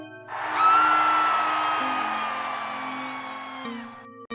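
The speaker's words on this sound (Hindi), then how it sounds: "तभी बाहर से चिखने चिल्लाने की आवाजें आती है।" Several people screaming and yelling together outside in a Hindi cartoon horror story about a witch, one loud sustained chorus of cries over steady background music.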